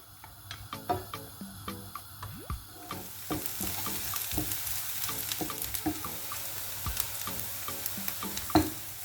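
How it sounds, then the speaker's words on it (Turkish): Onions fry in oil in a pan, a steady sizzle that swells after a few seconds, with regular rhythmic clicks and scrapes of a utensil stirring them. "Soğanlarımı kavurarak başlıyorum."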